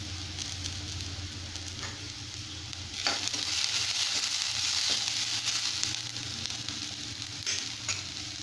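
Onions and green chili fry in a pan with a steady, close sizzle and occasional stirring scrapes, alone without talk, for a puffed rice upma.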